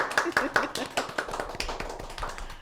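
Scattered clapping from a few people welcoming a guest onto an education podcast, with uneven, separate claps close by and no talking.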